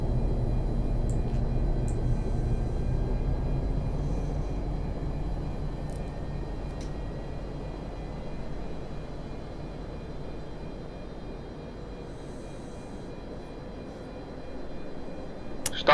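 A Boeing 747-200 engine spools up during a cold-and-dark startup in the X-Plane 12 flight simulator, heard as a steady, broad airliner engine drone with a faint whine running throughout and no voices.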